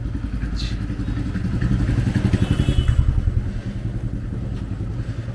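A scooter engine approaches along a Kolkata street and grows louder, its puttering pulses building before easing off, with faint clatter in the background.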